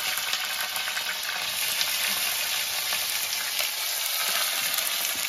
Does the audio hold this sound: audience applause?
no